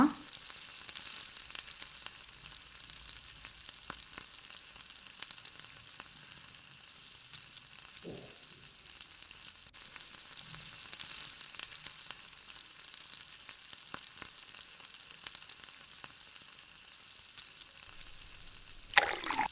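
Potatoes fry with turmeric in a pan, giving a steady, soft sizzle throughout with a few faint stirring clinks, close by and without speech.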